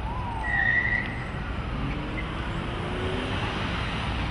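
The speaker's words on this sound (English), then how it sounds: "I'm hearing cars go right behind me as I'm crossing." Steady traffic rumble with cars passing close by on a street, a continuous low roar of engines and tires, no voices.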